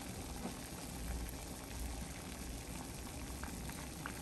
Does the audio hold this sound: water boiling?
yes